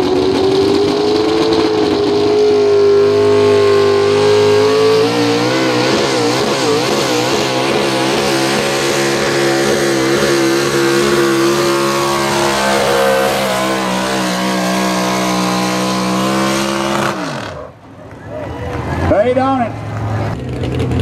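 A pro stock 4x4 truck engine at a tractor pull in Columbus screams loudly at sustained high revs for about seventeen seconds, its pitch wavering, then drops off abruptly before a brief lower rumble returns.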